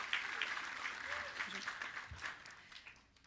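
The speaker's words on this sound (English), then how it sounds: "You can clap." Faint audience clapping at the Saturn Awards ceremony, a scattered, quiet patter of applause lasting about three seconds and tapering off at the end.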